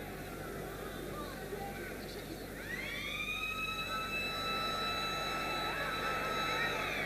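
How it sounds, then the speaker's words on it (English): A full-time siren wails at a rugby league match between Castleford and Australia, rising at first and then holding a steady, loud, sustained tone over constant crowd noise. "because the full-time siren has gone."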